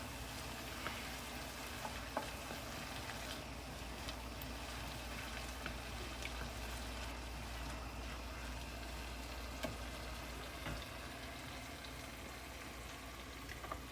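Fresh diced tomatoes and peppers sizzle steadily in a hot pan on raised heat, a constant crackling fry with no one talking.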